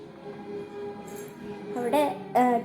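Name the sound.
television playing in the room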